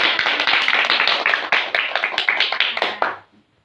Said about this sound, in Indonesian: Oke, beri aplaus untuk kita semua.